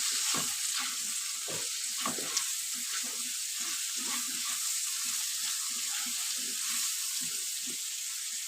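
Green banana curry with turmeric and chili powder sizzling as it fries in a pan, a steady close crackle with a spatula scraping and stirring in irregular strokes throughout.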